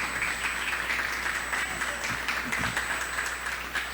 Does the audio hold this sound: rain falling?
no